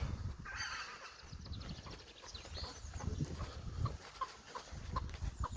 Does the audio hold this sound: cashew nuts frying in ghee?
no